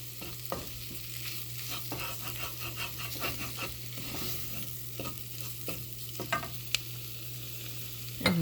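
Chicken korma with garam masala being stirred in a pan, a spoon scraping in repeated strokes over a steady low sizzle, close and moderately loud with no talking.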